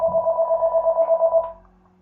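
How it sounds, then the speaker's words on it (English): A mobile phone rings with a loud, pulsing electronic tone repeating rapidly for about one and a half seconds before cutting off abruptly. "My phone went off."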